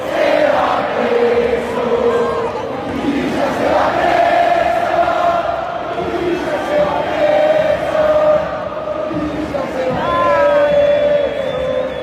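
Opposing soccer fans in a stadium chant a jeering song about a player named Villa, a loud massed crowd of voices singing in rising and falling waves throughout.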